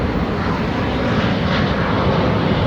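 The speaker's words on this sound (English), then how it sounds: "Oh, the plane goes by." A fixed-wing airplane passes overhead outdoors in Los Angeles, its engine roaring as a loud, steady broadband rumble that fills the whole moment with no talking.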